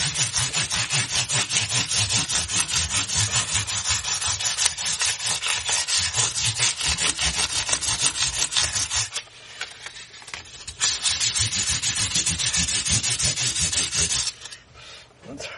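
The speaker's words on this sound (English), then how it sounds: "Let me just give the frets polish to see what they're like." Frets on a Fender-style Eleca electric guitar being polished with rapid, close rubbing strokes in a rough back-and-forth rhythm. The rubbing stops briefly midway, then resumes steadily until near the end.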